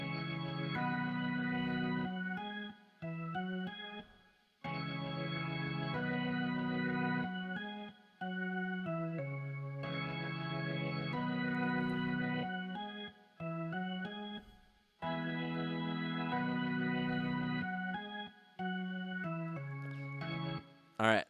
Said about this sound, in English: those keys, the organ on their own sounds like this.